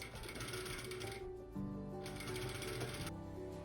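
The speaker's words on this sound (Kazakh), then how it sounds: "енді машинкамен ішкі жағынан тігесіздер" A sewing machine stitches a traditional chapan coat in two steady runs of rapid mechanical clatter with a brief pause between, fairly quiet and close.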